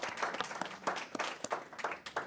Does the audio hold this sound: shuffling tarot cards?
no